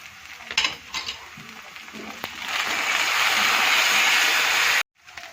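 Ginger-garlic paste sizzles as it is stirred into fried onions in a pan, a steady loud hiss with scraping utensil clicks early on, cutting off abruptly near the end.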